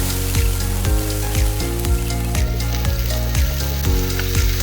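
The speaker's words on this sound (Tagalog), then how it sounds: "So ihulog naman natin ang ating sibuyas. Yan naman ang ating igigisa ngayon." Onions being sautéed in a hot pan for a squid and vegetable coconut stew, a loud continuous sizzle broken by regular clacks and scrapes of a spatula.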